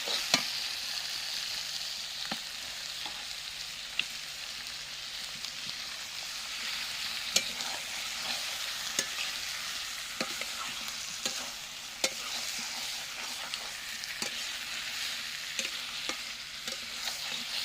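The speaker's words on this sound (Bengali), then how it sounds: "মশলাটা পুরোটা কষিয়ে নিয়েছি তার মধ্যে চিকেনগুলো দিয়ে দিলাম" Chicken pieces frying and being stirred with spices in a clay pot: a steady soft sizzle with scattered scraping stir clicks and taps throughout, fairly quiet, no talking.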